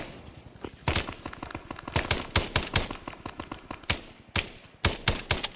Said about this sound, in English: Machine guns, lay down fire